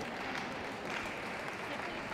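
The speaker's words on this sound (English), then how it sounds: "please do give them some applause" Steady applause from a crowd at a UK dog show fills the whole stretch, a dense even patter of clapping at moderate distance.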